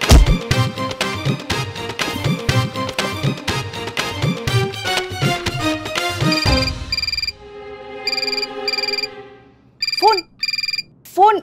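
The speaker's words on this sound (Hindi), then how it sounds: "फोन बज रहा" Loud music plays, then gives way to a repeating electronic telephone ring in short bursts with pauses, followed by a couple of swooping tones.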